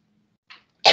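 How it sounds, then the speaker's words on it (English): A single sharp cough, close and fairly loud, preceded by a short softer throat sound. "Sorry about the cough."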